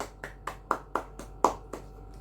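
Slow, separate hand claps in a classroom during a teaching simulation, about eight distinct claps at a loose, steady pace, close and fairly loud, with no talking.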